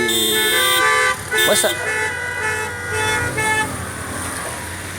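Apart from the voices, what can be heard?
car horns honking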